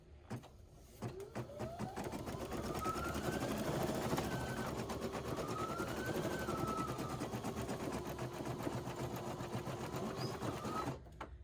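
Babylock Flo embroidery machine stitching a design with embroidery thread, a steady rapid mechanical whir lasting about ten seconds with shifting motor pitch, close and quiet, with no talking.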